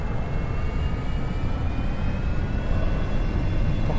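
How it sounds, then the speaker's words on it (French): Twin jet engines of a Cirrus SF50 personal jet in the X-Plane 11 flight simulator spool up for takeoff, a steady, loud broadband roar with a faint high whine that holds without pause. "On va lancer progressivement notre avion."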